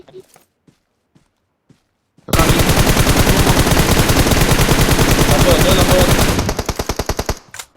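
Loud, rapid automatic gunfire from PUBG bursts in a sustained stream, trailing off into a few separate shots, with faint talk beneath.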